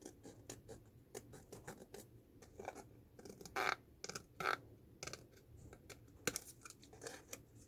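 Scissors cut card around a traced line for a lift-and-reveal box, making a series of close, quiet snips and scraping crunches at an uneven rhythm, with no talking.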